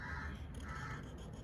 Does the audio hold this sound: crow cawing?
yes